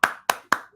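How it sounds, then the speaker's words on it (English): Three crisp hand claps in quick even succession, close and clear, from a classroom group applauding. "Round of applause for all of you."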